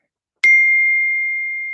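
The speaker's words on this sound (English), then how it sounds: "I should have put my phone on mute here." A phone notification sounds as one bright chime that rings out and slowly fades, alone and fairly loud.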